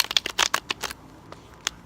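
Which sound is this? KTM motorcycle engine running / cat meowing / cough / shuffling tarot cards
shuffling tarot cards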